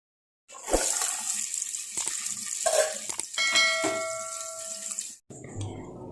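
Chopped small shallots (sinna vengayam) drop into hot oil with fennel seeds and fry, a loud sudden sizzle that hisses and crackles for several seconds, then a brief quieter stretch.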